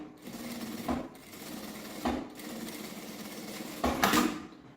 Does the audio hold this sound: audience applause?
no